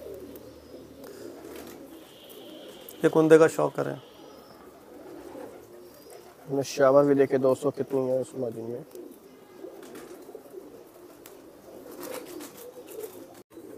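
Salara pigeons coo in two distinct rolling bursts, close and clear, while someone talks throughout over a steady background hum.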